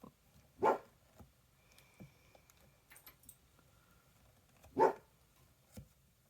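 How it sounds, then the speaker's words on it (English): A dog barks indoors in a home: two sharp, moderately loud single barks about four seconds apart, with a few softer yips and small noises in between against a quiet background. "My dog's name is Dakota."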